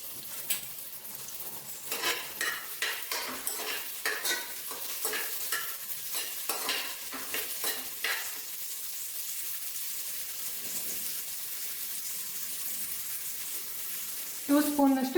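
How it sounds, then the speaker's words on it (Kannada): Onions frying with ginger-garlic paste are stirred in a pan, with a run of scraping strokes over a low, steady sizzle, then a softer sizzle alone and a clatter at the end; a faint voice may be present. "ಲೈಟ್ ಬ್ರೌನ್ ಕಲರ್ ಬರೋ ತನಕ ಫ್ರೈ ಮಾಡ್ಕೊಳ್ಳೋಣ."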